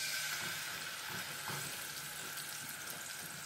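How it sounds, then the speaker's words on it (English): Salmon fries in olive oil in a pan, producing a soft, continuous sizzling hiss with faint crackles, heard close and alone at low volume. "When I hear the sizzle, that means it's ready."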